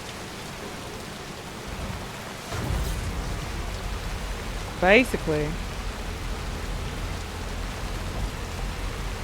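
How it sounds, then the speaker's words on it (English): Steady rain falls constantly in the video game Death Stranding, a dense hiss holding through the whole stretch while a voice speaks briefly over it. "Yep, lake knot with constant rain."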